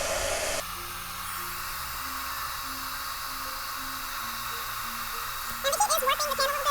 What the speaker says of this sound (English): we'll again go ahead and heat that up with my Marvy heat tool